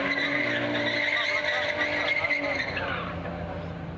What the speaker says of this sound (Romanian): Au venit cu mașinile de sute de cai putere și au încercat să facă drifturi cât mai sofisticate.